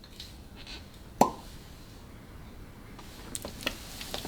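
A small cork pops out of a Caol Ila 12-year whisky bottle with one sharp, brief plop, close and clear in a quiet room, followed by a few faint clicks.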